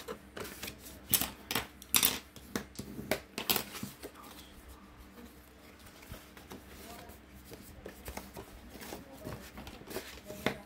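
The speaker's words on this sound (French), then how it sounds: "Ensuite, on va marquer les plis." Sharp tapping and creasing clicks as folds are scored into a small cardboard storage box, a quick cluster of crisp knocks followed by quieter rustling, heard close with no talking.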